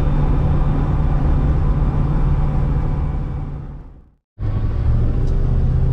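A Land Rover Defender drives along country lanes, its engine a steady, loud rumble with a low drone, dipping briefly to near silence before the rumble returns at full strength.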